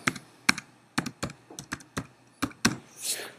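Typing on a computer keyboard, a run of about a dozen sharp, close key clicks at an uneven pace, ending with a brief soft rustle.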